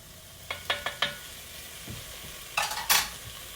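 Garlic, onions and peppers for goulash frying in a pan, with a few sharp scraping stirs of a utensil followed by louder bursts of sizzle near the end, fairly quiet overall.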